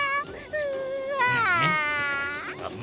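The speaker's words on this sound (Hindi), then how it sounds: "दिखता नहीं है बच्चा रो रहा है।" A baby character in a 3D animated cartoon cries in a drawn-out, wavering wail that rises and falls in pitch, loud and close with no other talk over it.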